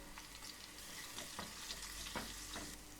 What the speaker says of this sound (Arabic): هعملهم طشه زيت، توم مفروم